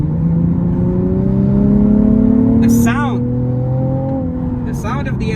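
A 2022 Nissan 370Z NISMO engine revving, a loud close throaty drone that swells and falls with rising whine sweeps, while a person talks over it.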